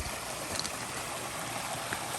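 A mountain stream that supplies community drinking water in McCarthy, Alaska rushes steadily nearby, a dense, continuous watery roar with no pauses.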